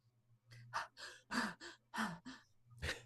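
A person breathes heavily in a rapid run of short, loud gasping breaths with brief gaps between them, close to the listener over a low steady hum.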